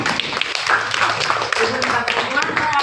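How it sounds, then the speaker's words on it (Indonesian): Children in an Indonesian primary school classroom clap together in a brief burst of dense, close applause lasting a few seconds. "terima tepuk tangan"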